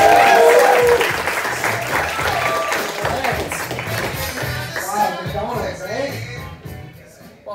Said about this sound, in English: please give a warm round of applause for the very funny Nick Moustakas